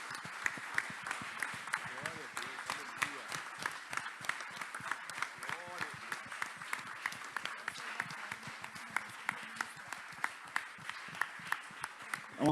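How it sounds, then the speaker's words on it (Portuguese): A church congregation claps together, a steady run of hand claps kept up for the whole stretch, with voices singing and speaking over the applause. "Você pode aplaudir a Jesus aí"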